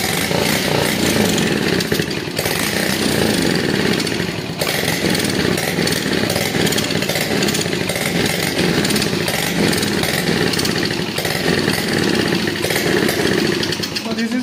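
A small acetylene-fueled two-wheeler engine, running on gas from calcium carbide, runs with a loud, steady buzzing roar throughout, close by and unbroken.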